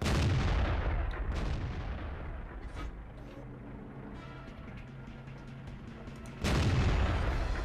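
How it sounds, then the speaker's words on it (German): A tank's main gun booms in World of Tanks, one loud blast at the start and another near the end, with rumbling battle noise between the shots and no talking. "Oh Gott, der Ding schießt wieder"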